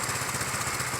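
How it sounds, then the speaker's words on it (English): A 2012 Icebear Mango motorbike engine idles close up in a steady, rapid, pulsing putter that runs evenly through the short moment. "It still runs, idles, goes down the road fine."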